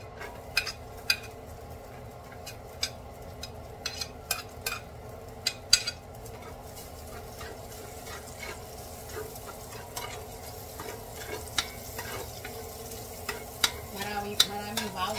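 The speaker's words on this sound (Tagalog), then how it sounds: "Ngayon ilalagay ko na yung aking bawang." Garlic frying in olive oil in a pan, with a soft, steady sizzle broken by frequent sharp clinks and scrapes of a utensil stirring against the pan.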